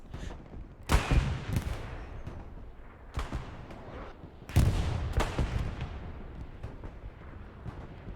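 Distant bombing run in a World War II game match set in Hürtgen Forest, heard as two heavy explosive bursts with rumbling tails amid ongoing gunfire and crackling battle noise.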